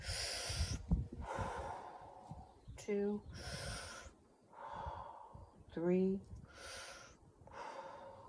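Heavy mouth breathing during an exercise workout, with loud rhythmic exhalations and sharp inhaled gasps repeating every second or two, close up, with brief spoken counting between breaths.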